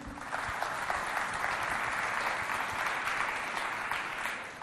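A live audience at a Chad television show applauds, dense even clapping holding steady throughout with no voices over it.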